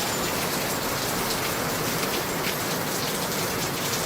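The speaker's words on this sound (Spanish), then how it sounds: "aquí tenemos una lluvia fuerte" Heavy rain pours down in a steady, dense roar of drops hitting surfaces, loud and constant for the whole stretch, with no talking.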